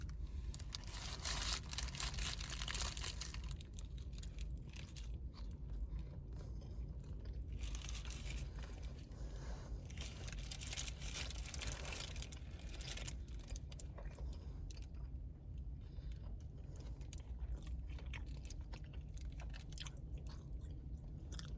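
Someone bites and chews a McDonald's Grilled Ranch Snack Wrap, close and steady crunching and mouth sounds running throughout, with no talking.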